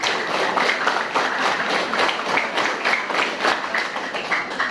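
A school group of students clapping a counted rhythmic pattern together, a steady run of fairly loud, slightly uneven claps filling the whole stretch.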